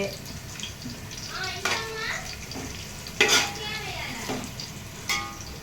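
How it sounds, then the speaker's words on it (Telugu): Coriander and mint leaves fry in a pan for chicken biryani, a low steady sizzle with occasional stirring scrapes and clatters, while a voice talks over the cooking. "తర్వాత కొత్తిమీర పుదీనా వేసుకోవాలి. బాగా వేగనిచ్చాలి."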